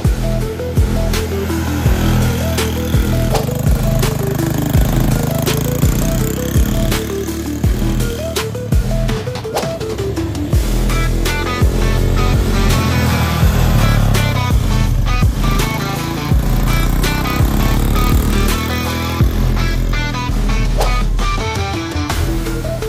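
Small cheap beginner Chinese ATV engine running steadily throughout a ride, a loud continuous buzzing drone with shifting revs and no speech.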